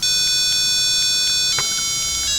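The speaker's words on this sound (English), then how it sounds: "They should have put a bigger buzzer, because this is really faint." The small buzzer on a Cokoino robot kit sounds a rapid, even series of short, high-pitched beeps. The beeps are fairly thin against a steady hiss of background noise.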